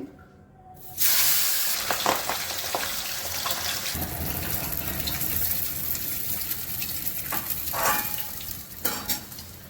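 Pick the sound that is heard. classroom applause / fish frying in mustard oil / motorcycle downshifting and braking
fish frying in mustard oil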